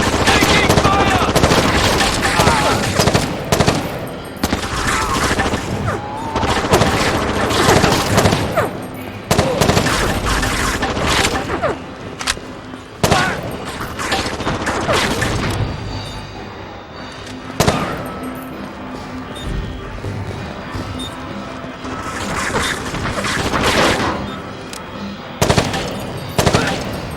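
Heavy automatic gunfire in Rainbow Six 3 on Xbox, with loud, close bursts and rapid volleys repeating throughout and brief lulls between firefights, under occasional shouted voices.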